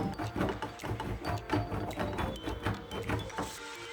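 A bar of Dove soap is scraped in quick repeated rasping strokes, a close, moderately quiet scratching rhythm.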